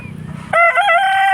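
Low clucking gives way to a loud, close rooster crow that holds for nearly a second, from free-roaming backyard roosters at a rural chicken coop.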